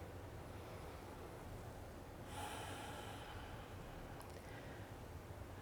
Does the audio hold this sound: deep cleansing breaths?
yes